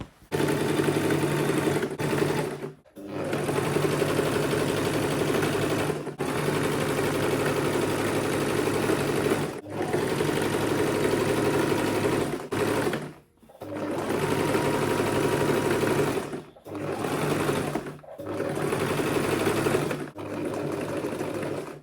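Sewing machine stitching fabric for a butterfly dress, loud close whirring runs broken by several brief pauses as the seam is guided along.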